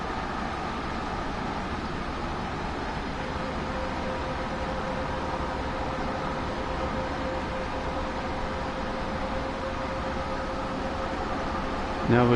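A passenger train in the Train Sim World 2 game rumbles along steadily as a broad, even noise with a faint constant tone, distant and unchanging throughout, and no talking.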